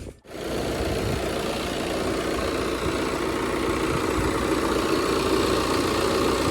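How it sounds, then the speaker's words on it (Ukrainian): Steady idle of a 2020 Audi A4 Avant 2.0 TDI quattro diesel, heard close under the open bonnet as a continuous even rumble with a faint clatter and no voices. "Ось робота двигуна."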